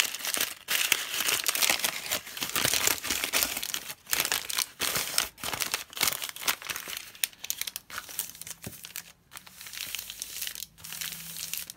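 A sheet of paper being crumpled and then unscrewed by hand, giving close, continuous crinkling and rustling in quick irregular bursts with brief gaps, fairly quiet and with no voice over it.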